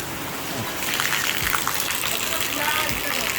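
Rain pattering and splashing steadily on surfaces, with a brief gust of louder downpour; voices murmur faintly underneath.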